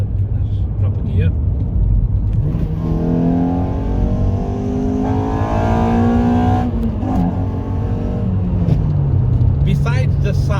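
Toyota Corolla T Sport engine pulling hard after a downshift, its rising engine note climbing steadily up close, with talk over it.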